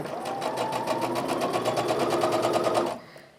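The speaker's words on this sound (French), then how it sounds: "je vais passer ça donc, à la machine" Sewing machine stitching pieces of fabric, a fast, even rattle of needle strokes that runs steadily for nearly three seconds and then stops abruptly, leaving quiet room tone.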